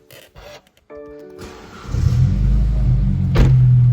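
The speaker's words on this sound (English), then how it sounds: "we will of course start the car up so you can listen to that exhaust" A BMW 420i M Sport coupe with a stainless exhaust starts up indoors in a showroom, a short crank followed by a loud, steady deep idle that swells in volume and holds after a brief rev.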